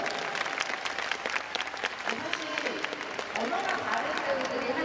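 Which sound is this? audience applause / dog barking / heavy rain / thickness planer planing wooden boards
audience applause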